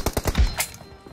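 Gunshots in the mobile battle royale PUBG, a quick burst of three or four sharp close shots followed by a lighter crack, all within about a second.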